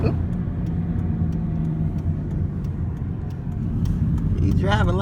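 Car travelling along the road heard from inside, a steady low engine and road rumble throughout, with voices talking over it near the end.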